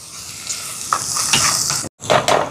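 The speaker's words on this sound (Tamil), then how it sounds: "இப்போ இந்த உள்ளி வதங்கட்டுக்கும்." Crushed garlic sautés with softened onions in a pan for a prawn egg curry. There is close sizzling with stirring scrapes, and a brief silent break near the end.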